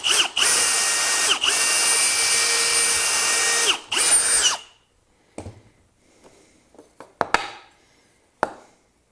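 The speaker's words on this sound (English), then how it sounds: "So let's put a couple test holes in here and see how it goes." A power drill bores test holes into wood clamped in a drilling jig, running loud and steady in two long bursts with brief pauses, then stopping, followed by a few scattered clunks and taps as the piece is handled.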